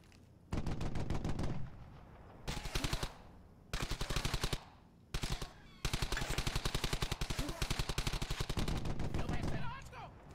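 Automatic weapon fire in the World War II shooter Brothers in Arms: Hell's Highway, with several loud, rapid bursts of gunfire separated by short pauses, ending in a long sustained burst.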